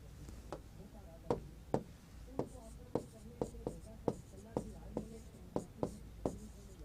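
Chalk tapping and scratching on a board, a series of about a dozen crisp, separate strokes at an uneven rhythm, close and moderately quiet.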